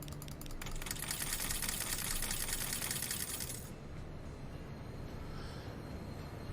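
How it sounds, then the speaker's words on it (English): A train in the Transport Fever 2 game rattles and clacks in rapid repetitive rhythm, bright and busy for a few seconds before easing into a softer, steady rumble; no talking. "I'm not sure this train will fit into that station."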